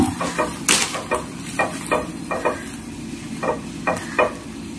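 Bun pieces toasting in a pan for a healthy breakfast, with a spatula scraping and stirring in a steady rhythm of short bursts over a soft, continuous sizzle. No voices.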